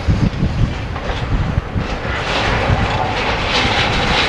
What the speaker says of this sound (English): he's grabbing and crunching the metal in one of the big skips